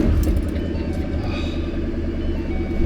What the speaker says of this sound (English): See, idle GT500 sounds really, really good